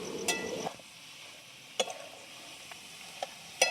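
Lavangi chilies, coriander and fresh coconut fry in hot oil, a short burst of sizzling at first that fades into quiet with a few scattered clicks and taps.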